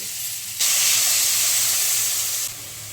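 Water is poured into a hot pan of fried pumpkin and potato with turmeric, sending up a sudden loud hissing burst of steam that holds for about two seconds and then drops back to a quieter sizzle.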